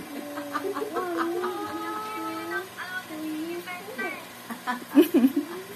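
Chickens clucking softly among voices, with people chatting nearby, and a few sharper clucks toward the end.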